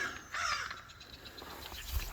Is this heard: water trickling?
no